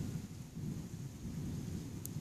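Rain and rumbling thunder in the Exploration Lite building game: a steady, dense wash of rainfall with low rolling thunder underneath, continuous throughout and with no voices.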